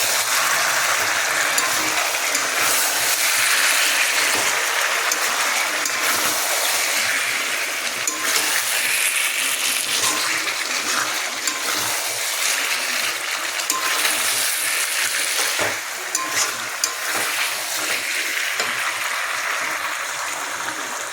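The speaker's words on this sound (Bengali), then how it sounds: "কষানো চলছে।" Chicken pieces being sautéed kosha-style in a pan give off a steady, close sizzle with scattered crackles and spatters that run unbroken throughout.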